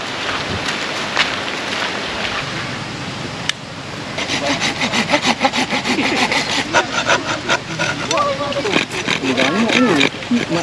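Wood being sawn by hand at a campsite, steady rhythmic rasping strokes that grow louder and quicker partway through, with people talking nearby.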